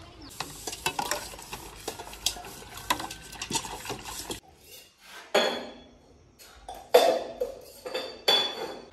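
Metal pots, pans and utensils being washed by hand at home, with irregular clanks, scrapes and stirring clatter, loud and close, broken by brief pauses and splashy scrubbing bursts; no one speaks.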